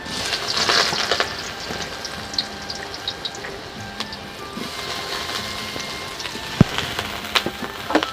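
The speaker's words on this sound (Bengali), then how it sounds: "এখন আমি সোয়াবিন ভাজবো সেই জন্য প্রথমে কড়াতে তেল দিয়ে দিচ্ছি আর এখন আমি সোয়াবিনগুলো উঠিয়ে দিচ্ছি" Soybean chunks sizzle and crackle in hot oil in a kadai, a steady frying hiss with scattered sharp pops and spits, fairly close and without talk.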